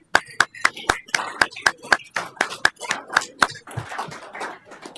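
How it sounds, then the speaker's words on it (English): Scattered hand clapping from a city council meeting audience honoring the Person of the Year, a handful of distinct claps building into light applause before fading into murmur. "So everyone give her a round of applause."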